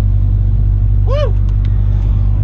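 A cheap old Honda car at a race track, its engine a loud steady rumble with a brief rising-and-falling rev partway through, heard up close and alone.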